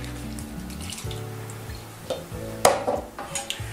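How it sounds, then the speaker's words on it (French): Beer poured into a bowl of crêpe batter for crêpes Suzette, a short liquid glug and splash over light background kitchen noise, with a brief louder splash near the end. "je vais y mettre ma bière"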